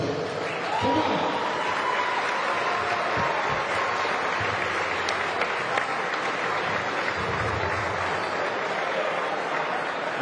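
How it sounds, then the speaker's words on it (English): Sustained applause from a crowd at a basketball game between Reading Rockets and Newcastle Knights, a dense steady wash of clapping lasting the whole stretch with scattered cheers and voices mixed in. "Give them all a nice round of applause, please."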